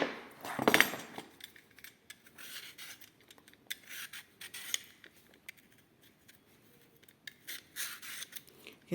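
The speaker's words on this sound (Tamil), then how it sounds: "இதை ரெண்டு பக்கமும் நறுக்கிட்டு தோல் சீவிடலாம்" Close, quiet scraping and cutting sounds of a knife on raw plantain, with a sharper cut near the start and intermittent peeling strokes.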